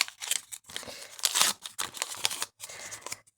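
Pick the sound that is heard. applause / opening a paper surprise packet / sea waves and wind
opening a paper surprise packet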